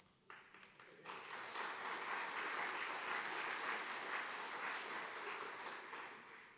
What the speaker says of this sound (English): I think that may be the first time that I've received an applause at the AGM.